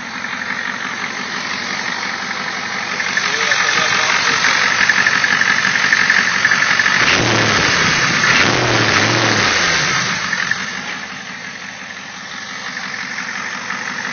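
A 1992 Ford F-250 XLT with the 7.3 liter engine idles up close, a steady loud diesel-like rumble that swells slightly midway before settling back to an even idle.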